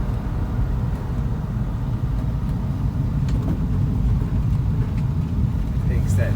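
A 1969 Ford Mustang Mach 1 tribute car cruises down the road, with a steady low engine rumble and road noise running throughout, close and even.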